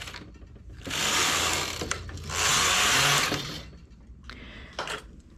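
Two passes of a knitting machine carriage sliding across the needle bed, each a whirring mechanical rush lasting about a second, close and clear, followed by lighter clicks and a brief softer pass.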